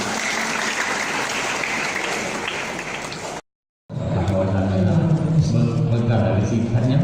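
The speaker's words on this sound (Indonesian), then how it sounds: "sekali lagi tepuk tangan yang mulia" A ceremony audience in South Sumatra breaks into loud, dense applause that holds steady for several seconds. It stops in a brief silence, then crowd noise returns with voices talking.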